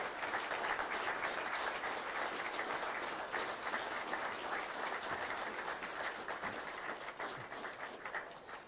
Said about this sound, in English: Give them a round of applause as they come forward.